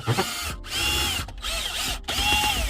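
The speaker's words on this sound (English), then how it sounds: "You just remove these 4 screws." Screws being removed from the stereo of a 2003 Honda CR-V with a power driver: three short whirring motor bursts separated by brief pauses, close and fairly clear.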